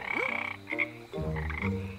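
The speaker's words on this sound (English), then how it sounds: "He wants to get the frog." Cartoon frog croaking in a few deep, drawn-out, tonal croaks with short gaps between them, loud and close, with no talking.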